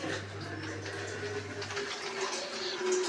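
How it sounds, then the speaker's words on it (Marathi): Water running from a tap to fill a container at home in the early morning, a steady rushing stream that holds close and even before thinning slightly partway through. "आई पाणी भरते."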